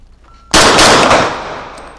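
Gunfire on a basic shooting course range, a sudden loud burst of rapid shots blending into one dense blast that then decays with echo.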